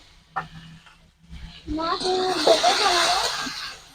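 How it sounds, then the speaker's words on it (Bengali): Pumpkin and potato with salt and turmeric sautéed in a pan, a rising sizzle with spatula scraping that swells loud and steady for a couple of seconds before fading. "ভালো করে কুমড়ো আলুটাকে একটু কষিয়ে নিচ্ছি"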